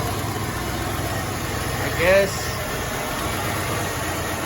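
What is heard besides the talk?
Chevrolet Impala car engine idling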